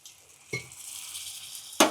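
Green val beans in a pan burst into sharp sizzling as a spoonful of water hits the hot oil, two sudden loud bursts separated by a softer steady hiss, close up and without talk.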